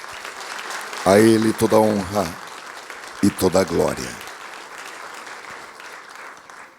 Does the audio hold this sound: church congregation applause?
yes